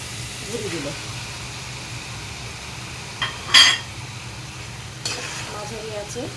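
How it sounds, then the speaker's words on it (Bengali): Beef tripe frying in a pan with spices and a little water, with a steady low sizzle broken by a few sharp spoon scrapes and clinks against the metal as it is stirred. "এখন আমি দিয়ে দিচ্ছি ভুড়িগুলো।"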